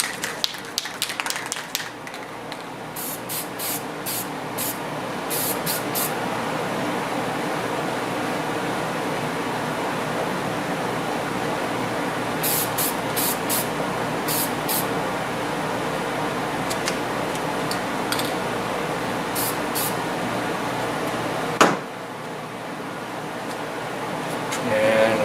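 A flying pintail duck mount gets a sprayed coat, heard as a steady, unbroken hiss that runs for about twenty seconds with one brief interruption near the end.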